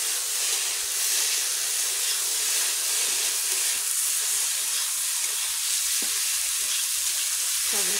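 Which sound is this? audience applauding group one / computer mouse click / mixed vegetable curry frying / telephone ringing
mixed vegetable curry frying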